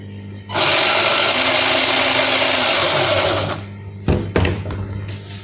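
Austar clone of an Axial SCX10 II RC crawler, its electric motor run at full throttle on a 3S battery: a loud, steady high-pitched whine for about three seconds that cuts off abruptly, followed by a few clunks and softer mechanical rattles.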